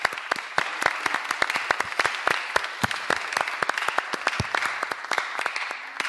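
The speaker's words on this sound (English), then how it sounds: "can we have a round of applause for that?" A crowd applauding steadily at a board meeting, dense overlapping claps at an even, moderate level throughout, with no talking.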